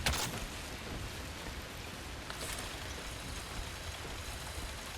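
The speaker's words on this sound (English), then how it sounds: "And now it's raining." Rain falls in the survival video game The Last Caretaker, a soft, steady hiss of drops that stays faint and even throughout with no talking over it.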